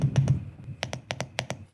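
A mechanical computer keyboard's spacebar and keys are pressed, making about ten sharp, fairly loud clacks that come in quick pairs and singles close up, with no talking.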